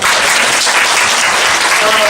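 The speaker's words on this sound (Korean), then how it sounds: "우리 박수 한번 쳐칠까요?" A university lecture audience bursts into loud, dense clapping that fills the hall evenly and continuously from start to finish.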